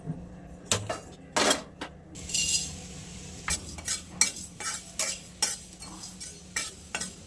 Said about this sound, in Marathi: तर पहिला मी भाजून घेणार आहे आता.